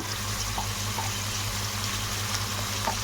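Potato pieces fry in hot oil in a pan, giving a steady, continuous sizzle that holds at an even level throughout, with a low hum beneath and no talking.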